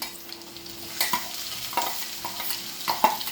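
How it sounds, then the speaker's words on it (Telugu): Curry leaves and green chilies fry in hot oil in a pan, a soft steady sizzle broken by several sharp stirring scrapes and clatters close by. "ముందు కరివేపాకు పచ్చిమిరపకాయలు వేసుకుంటే ఫ్లేవర్ దిగుతుంది."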